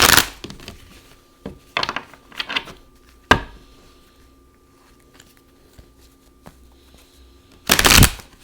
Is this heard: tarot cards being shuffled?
yes